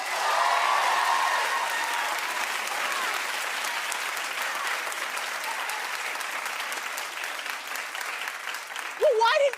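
A studio audience claps in a sustained, dense burst that holds steady for most of its length, with a voice breaking in briefly near the end.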